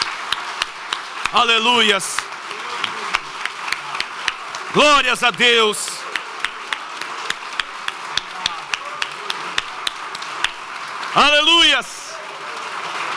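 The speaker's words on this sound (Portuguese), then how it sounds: "Uma salva de palmas para Jesus Cristo." A church congregation claps in dense, rhythmic bursts while a voice calls out in between, sustained percussive hand claps running under the singing and shouting throughout.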